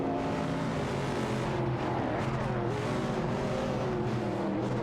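Race cars in a racing video game, several engines roaring together in a dense, continuous drone with overlapping revving tones, loud and steady throughout with no talk.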